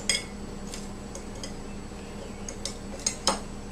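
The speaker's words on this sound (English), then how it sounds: "We'll give it a gentle stir" A utensil stirs yeast and sugar into lukewarm water in a bowl, giving a few light, scattered clinks and taps against the side over a quiet background.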